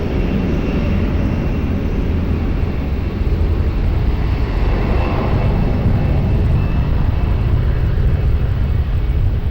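Airplane on takeoff roll from runway 20 at Lisbon Airport, a steady, loud, broadband engine roar filling the whole stretch without a break, no voices.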